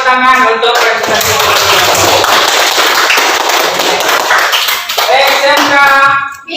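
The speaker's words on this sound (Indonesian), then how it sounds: "tepuk tangan untuk presentasi" Classroom applause after a group presentation at a vocational school (SMK) teaching-performance session, a dense burst of clapping lasting several seconds, with voices talking before and after it.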